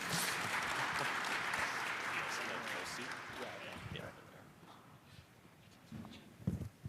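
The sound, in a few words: audience applauding panelists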